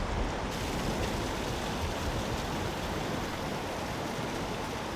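Meltwater rushes through an ice cave inside a glacier, a dense, steady roar of running water that fills the space evenly from start to finish, with no voices.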